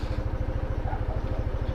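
A Yamaha Nmax V2.1 scooter runs at top speed on flat road, its engine a rapid, even low throb under steady road and wind noise, with no talking.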